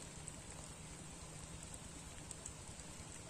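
Steady rain falls during a rainy spell on a fishing outing, a dense even patter with no voices.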